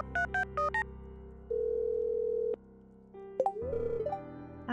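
Stardew Valley phone sounds: a short run of stepped dialing tones, then a steady electronic tone lasting about a second, a click, and a wavering synthetic tone at the end. Clean game audio with no talk.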